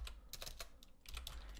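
A command being typed on a computer keyboard at a command prompt: quick, light keystrokes in a brief run, fairly close and soft over a low steady hum.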